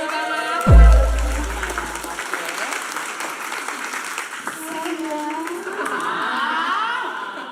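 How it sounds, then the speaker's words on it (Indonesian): A crowd applauds at a live stream marathon event, a steady, sustained clapping that runs from start to finish after a brief low thump near the beginning, with a voice heard faintly under it. "Tepuk tangan dulu sekali lagi, tepuk tangan"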